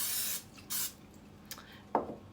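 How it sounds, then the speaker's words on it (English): Non-stick cooking spray hisses onto a baking pan in several short bursts, a long spray first, then a couple of brief puffs, close and fairly quiet in a kitchen. "I'm going to go ahead and spray my pan with an on-stick spray"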